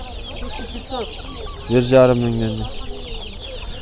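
Turkeys and other poultry at an outdoor livestock market gobble and cluck close by, one loud drawn-out call rising above the background, while people talk over the scene.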